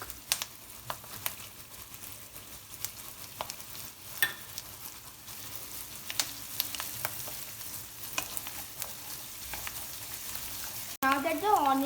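Garlic sautéing with vegetables, onions among them, in a pan, giving a steady, fairly quiet sizzle with scattered stirring clicks and scrapes throughout.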